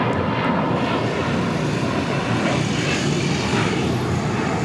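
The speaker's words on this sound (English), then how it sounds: "Air Premia, the Dreamliner heading back to Seoul, starting taxi." Air Premia Boeing 787 Dreamliner taxiing at LAX, its steady broad jet engine roar filling the scene from nearby at a constant level, with no voices over it.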